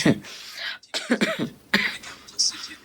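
A woman coughing several times in short bursts, some sounding like throat clearing, close and fairly loud with brief gaps between them.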